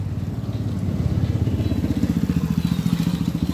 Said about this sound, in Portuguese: tem um monte de moto passando aqui